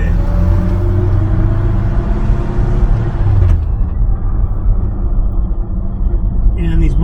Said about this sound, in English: these Muncie 3-speeds are super noisy because they're straight cut gears